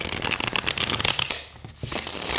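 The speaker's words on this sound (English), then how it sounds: "Yeah, they shuffle just fine." A tarot deck being shuffled up close gives a rapid crackle of riffling cards, a brief pause, then a softer rustle.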